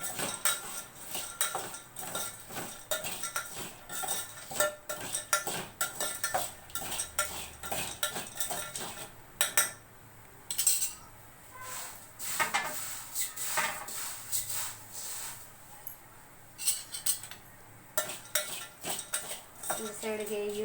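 Roasted peanuts and roasted gram being mixed in a pan with a metal spoon, busy clattering and scraping of utensil against the pan throughout, close and fairly loud, with no voices.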